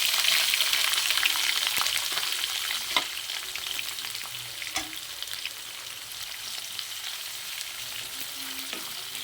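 Onions frying in oil with urad dal and chana dal in a pan, a steady close sizzle broken by occasional scraping stirs, with no voices over it.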